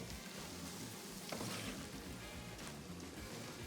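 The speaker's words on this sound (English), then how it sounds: "So potatoes, small cubes inside, and saute it together for a while." Small cubes of potato sizzle and crackle steadily as they sauté in a pan, a soft, continuous frying hiss with faint stirring, heard close and on its own with no talk.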